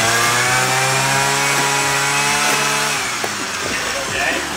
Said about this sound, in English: Brian was doing his front squats, DJ was cutting with the weed whacker and he was launching these wood chips at Brian.